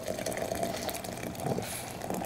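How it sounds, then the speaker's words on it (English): Boiling water is poured steadily into a glass beaker, a continuous splashing, filling gush close by that runs evenly throughout. "I'm adding some boiling water to this beaker."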